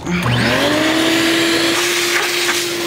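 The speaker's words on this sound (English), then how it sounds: "To the shop vac!" A shop vac starts up and runs loud and close, its motor rising quickly to a steady high whine with a rushing airflow hiss, and no talking.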